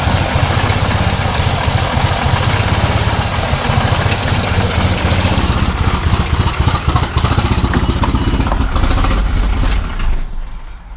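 A Ford BA drift ute, fitted with a BF ECU, runs roughly with a loud, steady, rattling engine drone that holds for about ten seconds before dropping away at the end.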